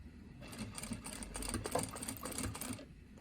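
A sewing machine stitches a seam on a double-sided zippered folder with embroidery thread, running in a steady rapid whir for a couple of seconds, fairly quiet and close, with no one talking.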